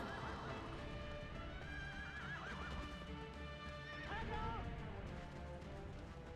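Horse galloping with steady clip-clop hoofbeats in Shadow of the Colossus on PS2, two whinnies rising over the pounding, with a game score and a faint voice underneath.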